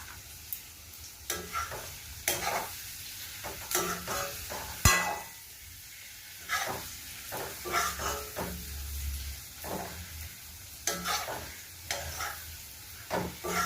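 Chowmein frying in a home kitchen pan: a soft continuous sizzle broken by repeated scraping and clattering stirs at irregular intervals, fairly quiet and without speech.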